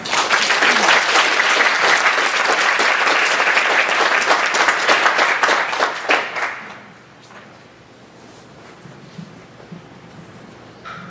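An audience at a storytelling event bursts into loud, full applause that holds strong for about six seconds, then fades quickly to a quiet room with a few scattered claps.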